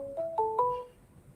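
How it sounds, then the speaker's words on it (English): A phone ringtone for an incoming call on a call-in radio show plays alone: three quick rising two-tone chirps that step upward, then fade into quiet. "Another phone call, y'all."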